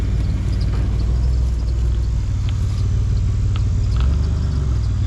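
A 2004 Ford Explorer, brought back to life after sitting, runs with a steady low rumbling idle and a fine rapid pulse, moderately loud and close, with no voices.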